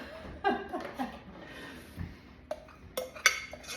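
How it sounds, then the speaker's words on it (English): A metal spoon clinks and scrapes against a pot while warm cooked quinoa is scooped out in a home kitchen, producing a few light, separate taps and scrapes at close range. "I'm just gonna scrape the rest of this quinoa in"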